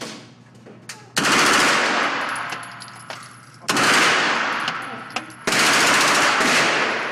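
Three long, loud bursts of rapid automatic gunfire from a gun with a red dot sight, each roaring for a couple of seconds with sharp onsets, separated by short pauses and a few faint clicks.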